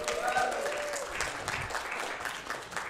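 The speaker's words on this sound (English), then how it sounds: "Thank you, Kim and Paul, for that opening song. It's always amazing to hear y'all. Let's give them a round of applause." A church congregation applauding opening song performers at a service, steady moderate clapping throughout, with a faint tonal sound near the start.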